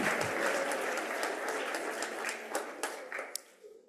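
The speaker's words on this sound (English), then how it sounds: "Let's give them a round of applause." Applause from an audience at an annual green schools awards event, a moderate wash of clapping that thins out toward the end, with a few sharper individual claps standing out as it dies away.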